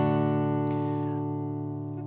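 A single strummed acoustic guitar chord rings out alone and slowly fades over about two seconds, with no talking.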